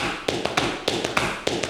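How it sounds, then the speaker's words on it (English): Basic foot percussion for fiddle accompaniment: crisp taps of a shoe on the floor in a repeating three-sound pattern, quick and evenly spaced, close and clear with no talking. "demonstrate to you a little idea of how to do some basic foot percussion"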